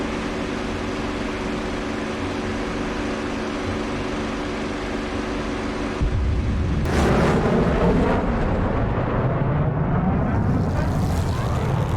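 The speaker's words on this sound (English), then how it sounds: "Loud airplane." A P-51 propeller fighter in the DCS World flight simulator drones with a loud, steady engine roar that surges and grows rougher partway through, constant and close throughout.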